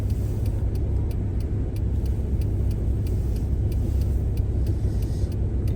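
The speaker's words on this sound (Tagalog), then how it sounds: "Ito yung mga pampaserong bus dito." A passenger bus rolls past on a cold, snowy Canadian street, its engine a steady, heavy low rumble that holds loud and even throughout.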